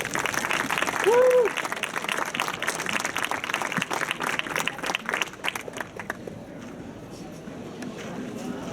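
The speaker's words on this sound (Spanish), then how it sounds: "Un aplauso para ellos, por favor" Applause greets a historical gladiator reenactment group at a talk, a brief wash of clapping from the audience that fades out toward the end, with voices murmuring in the room.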